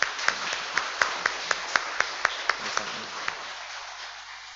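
A church congregation claps in a run of about a dozen distinct hand claps with light applause underneath, moderately near, before it fades out.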